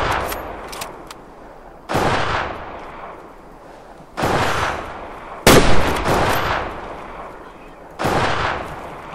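Rifle shots fired while hunting wild boar in Transylvania in the Way of the Hunter video game: four loud, sharp blasts spaced about two seconds apart, each trailing into a long rolling echo.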